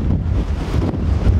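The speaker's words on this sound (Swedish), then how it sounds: "Oj, vad det blåser och står i." Strong wind buffets the microphone beside a trout river, a loud, rough low roar that gusts without a break, with water noise underneath and no speech.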